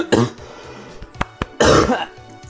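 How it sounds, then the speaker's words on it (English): Two harsh, bursty coughs close to the mic, a short one early and a longer, louder one later, with a few sharp throat clicks in between. "I'm still going through my cough thing here myself."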